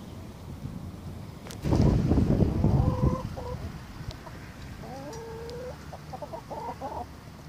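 A broody hen and other chickens cluck nearby, with a loud flurry of agitated squawking and rustling that settles into softer, drawn-out clucks and murmuring calls.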